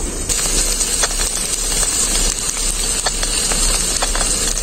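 Cabbage and egg frying in mustard oil in a pan, a steady loud hiss and sizzle running throughout with small crackles and pops scattered over it.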